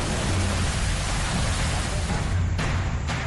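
Heavy monsoon rain pours across flooded Pithoragarh, Uttarakhand, a dense steady hiss of downpour and rushing water filling the scene, loud and continuous throughout with no break.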